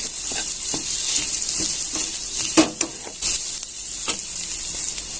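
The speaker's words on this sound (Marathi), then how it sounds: "आता कांदा परत त्याच्यात आपण व्यवस्थित परतून घेणार आहोत" Onions fry with chutney in hot oil for a rustic kurdai onion dish, giving a constant close sizzle broken by scattered scraping clicks from stirring.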